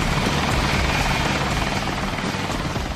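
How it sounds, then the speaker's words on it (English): A military helicopter roars steadily nearby, its rotor and engine noise loud and continuous with a dense, throbbing rumble. "The Lynx helicopter has often been described"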